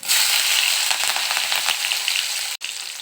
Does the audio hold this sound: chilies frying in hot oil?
yes